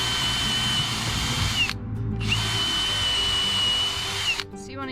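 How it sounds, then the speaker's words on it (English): Power drill boring holes into wood for an insect house, two long high whining bursts of the motor separated by a short pause, close and loud, ending as the bit winds down. "This is where your drill bits and your drill really come in handy."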